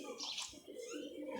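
Pigeons make soft, close coos and brief chirps in a short burst over low background noise.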